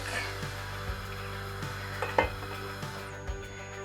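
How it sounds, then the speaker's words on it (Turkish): Knorr packet lentil soup thickening as it comes to a boil in a pot on low heat, stirred with a wooden spoon, giving soft scraping strokes and a few light knocks against the pot over a steady hum, no talking. "Bakın hiç pürüz yok çünkü sürekli karıştırıyoruz"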